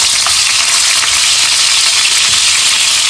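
Meat for a Moroccan tagine sears in a hot pot, giving a loud, continuous hiss and crackle of sizzling fat that holds steady throughout with no voices.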